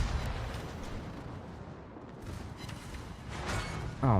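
Warship guns fire in a naval video game, heavy rumbling artillery booms merging into a continuous loud roar of battle noise, with a sharper burst near the end.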